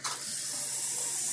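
A soft, steady sizzling hiss of food frying in a covered pot for jollof rice, continuous and close for a brief moment.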